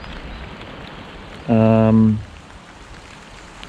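Rain on an allotment in Tokyo makes a steady, soft hiss throughout, and a voice briefly speaks over it midway.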